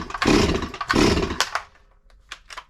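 A ported Farmertec MS440 kit chainsaw with carburetor trouble fires in two loud, ragged bursts that quickly bog and die, followed by weak sputtering attempts and near silence.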